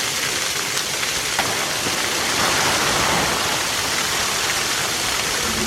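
Water pouring and splashing steadily while priming the siphon of a 4 inch micro hydro unit outdoors, a continuous rushing wash with a slight swell midway and no talk.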